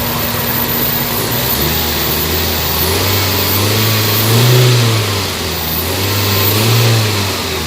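Toyota Vitz engine with reverse and drive gear vibration and a low-power acceleration fault revs up from idle, its steady drone rising and falling in two or three swells, loud and close with no talking.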